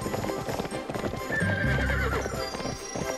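Galloping hoofbeats and a whinnying neigh from a horse in the Barbie Horse Adventures: Wild Horse Rescue video game, steady clip-clop throughout with a loud neigh in the middle, no talk over it.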